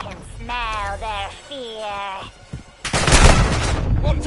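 Gunfire in the video game Call of Duty: Modern Warfare 2 bursts in loud and dense toward the end, after a stretch of voice talking with harmonic tones.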